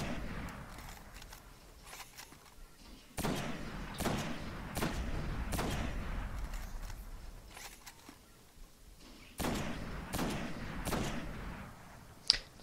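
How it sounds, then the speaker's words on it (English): Sniper rifle shots in the Destiny video game, a run of sharp loud cracks fired one after another with short gaps, each ringing out over steady game ambience, with a final sharp shot near the end. "We're just gonna waste this sniper ammo here."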